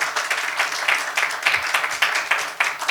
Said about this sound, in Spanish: Yo quiero darle un aplauso al Señor por lo que Él nos ha hablado hoy día.